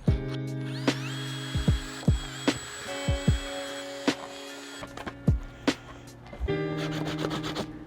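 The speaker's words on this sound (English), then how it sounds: "we're gonna start to drill this hole out" A handheld power drill bores a hole in the bed of a Toyota Tacoma pickup, running in short whirring bursts separated by sharp clicks and knocks, close up, with a longer steady run near the end.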